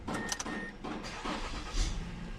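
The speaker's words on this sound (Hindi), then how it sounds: "गाड़ी भी अल्हम्दुलिल्लाह स्टार्ट है बिल्कुल ठीक है" A Mazda CX-9 engine idles steadily just after starting, with a broadband running hum and a brief clunk near the end, close and fairly loud with no talk.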